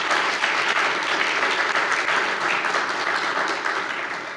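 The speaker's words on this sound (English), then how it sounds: "he deserves a round of applause" A ReasonFest conference audience applauds, a dense, continuous wash of many hands clapping at steady loudness, slowly easing off toward the end.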